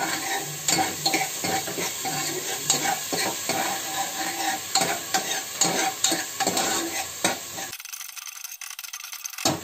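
Ginger-garlic paste sizzles and fries in hot oil while being stirred continuously in a pan, with scraping strokes over a steady crackle, close and moderately loud, before a brief quieter moment near the end.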